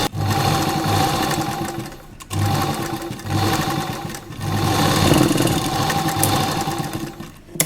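A sewing machine stitches A-line kurta fabric in loud, close bursts of rapid mechanical whirring, with brief pauses between runs.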